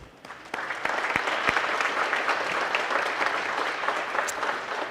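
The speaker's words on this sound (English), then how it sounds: "I'd like to give a big round of applause to the trustees tonight." A ceremony audience applauds trustees at a community college nursing pinning ceremony, a steady, dense wash of clapping from a large crowd that swells quickly and holds evenly throughout.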